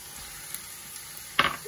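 Vegetables and diced tomatoes for imam bayildi cooking in a pan, a quiet steady sizzle with a louder burst of frying near the end, no talk.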